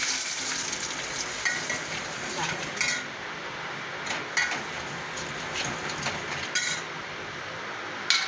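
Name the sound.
gram flour (besan) roasting in oil with fenugreek, hing, curry leaves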